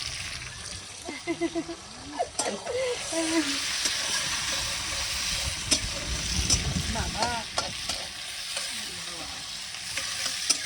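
Whole spices crackle and sizzle in hot oil in a pan during an outdoor family picnic cookout, with a steady frying hiss and stirring noises while people talk nearby.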